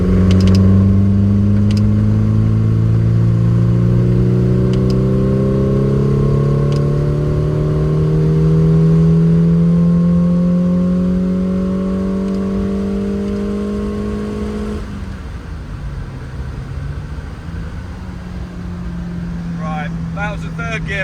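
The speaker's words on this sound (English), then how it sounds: "Right, that was a third gear pull." Lotus Elan restomod engine revving through a third-gear pull, loud and close, with pitch rising steadily for about fifteen seconds before dropping off sharply as the throttle lifts, then idling on.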